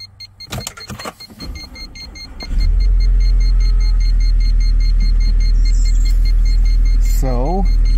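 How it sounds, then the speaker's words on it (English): A car engine cranks and starts, with a few clicks and knocks before the motor catches and settles into a loud, steady low idle rumble. A short rising electronic chime sounds near the end. "I'm getting ready to start the car."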